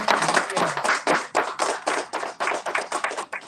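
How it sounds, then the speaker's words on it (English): A small group claps by hand, the separate claps distinct and uneven, with a few voices mixed in underneath. "Can everyone give a round of applause?"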